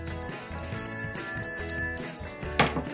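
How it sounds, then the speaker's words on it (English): A bright notification bell sound effect rings in quick repeated chimes over a busy musical backing, with a sharper accent near the end, no talking. "Hit the notification bell so you know when our videos go live."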